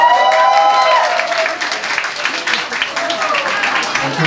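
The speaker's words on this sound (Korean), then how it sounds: "박수 한번 드릴게요." An audience at a university club's spring performance applauds, a dense wash of clapping that overlaps a voice at the start and continues steadily throughout.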